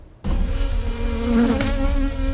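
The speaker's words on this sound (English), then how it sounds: "The familiar buzz of bees will emerge this spring." Bees buzzing steadily up close in spring, a continuous insect drone that starts abruptly after a brief silence and holds at even loudness.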